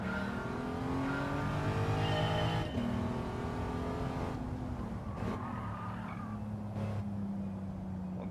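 A car engine in the Gran Turismo 7 racing game revs steadily and shifts through gears, the pitch climbing and dropping with each change. It sounds loud and continuous, with no talking over it.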